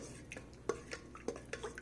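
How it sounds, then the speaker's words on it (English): A yeast mixture is stirred in a mixer bowl for sandwich bread, giving faint, irregular scraping and light clinks of utensil against the bowl, with soft wet sloshing, quiet and close. "give it a little bit of a stir"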